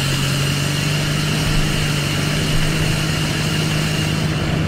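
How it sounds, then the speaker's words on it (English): A 2017 Chevrolet Silverado truck engine in Farming Simulator 17 runs in a steady, loud idle with a constant low hum and no pauses. No voices are heard. "Probably should start the engine first."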